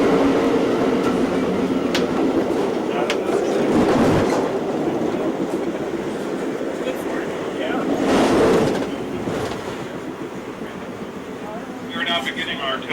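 A high-speed passenger train runs at 110 mph on the Illinois line near Joliet, a continuous rolling rumble with rhythmic clickety-clack of wheels over joints, swelling in bursts, recorded from on board with faint voices in the background.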